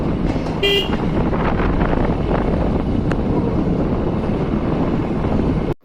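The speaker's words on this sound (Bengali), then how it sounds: "কত সুন্দর হাওয়াও দিচ্ছে" Wind on a village road in the morning roars steadily and loudly across a microphone, with a brief horn toot near the start and no talking.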